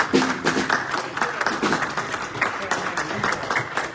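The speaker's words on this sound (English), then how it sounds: "So let's give them applause right now." An audience claps at a concertina congress anniversary celebration, uneven, crisp hand claps in a moderately sized crowd, somewhat sparse with irregular peaks, close by.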